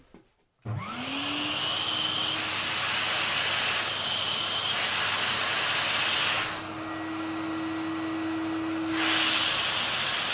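A Hoover Aquamaster S4470 vacuum cleaner set up for wet use starts abruptly and runs loud and close as a steady whining motor roar, its pitch shifting slightly midway.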